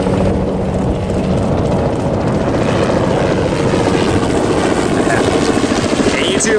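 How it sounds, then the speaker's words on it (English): A helicopter passes overhead at an airshow, its rotor thudding in a steady loud beat that stays close and strong throughout, with faint voices beneath. "That looks like a helicopter about to fly overhead."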